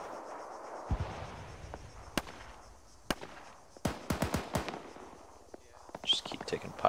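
Scattered distant gunshots in a military video game, sharp isolated cracks and a quick cluster of pops at moderate volume, with quiet speech around them.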